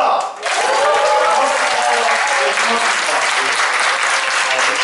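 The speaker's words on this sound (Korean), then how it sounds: "큰 박수로 환영하겠습니다" Loud, sustained applause from an indoor lecture audience welcoming a guest professor, dense clapping throughout with a brief dip at the start and a few voices and cheers mixed in.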